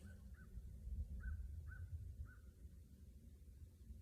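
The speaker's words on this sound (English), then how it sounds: "Crows are griping" Crows caw outdoors on a clear, breezy day, several harsh calls in quick succession at middle distance over low wind rumble.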